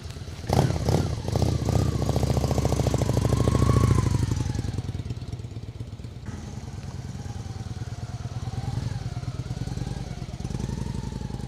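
A 1999 Honda Shadow 750 American Classic Edition with stock exhaust rumbles steadily as it rides off, a low, even engine drone that swells briefly and then continues at a moderate level.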